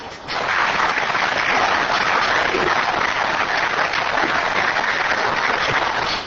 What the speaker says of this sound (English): Can we not have the applause?